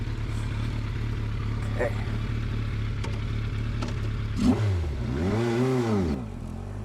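A 1988 Yamaha FZR 1000 motorcycle engine running under a steady drone, then revving twice in rising and falling swoops near the end, close by, with a brief spoken word.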